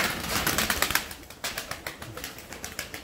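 Table pigeons kept in a netted enclosure take off and flap about, giving a flurry of close wingbeats followed by sharp, irregular flaps and claps of wings, fairly quiet with no talk over them.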